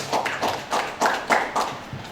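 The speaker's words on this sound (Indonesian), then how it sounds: "Tepuk tangan buat Jatilor." Audience clapping in a steady rhythm of evenly spaced bursts during a village information-commission visit in Jatilor, moderately loud and close, with no talk over it.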